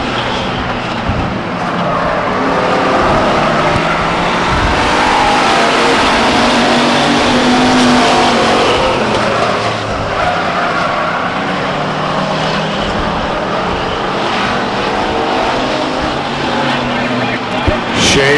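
Stock race cars roar around Stockton 99 Speedway, a continuous blended engine drone from the pack heard at a distance, steady and loud throughout with shifting pitch as the cars pass.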